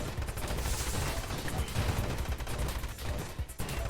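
A turret in the Nova Drift asteroids-style space shooter fires rapid, dense bursts of gunfire-like shots over continuous game noise, loud and sustained throughout.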